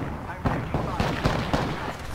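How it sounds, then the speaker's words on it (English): Missiles exploding in the video game Apex Legends: a rapid series of loud booming blasts roughly every quarter second over a dense rumbling battle din. "Oh, those are missiles."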